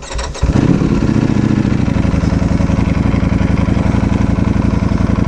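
Carbon fiber Ducati V4S motorcycle engine starts with a short burst, then settles into a loud, steady, throbbing idle close by, its rapid pulses running unbroken to the end.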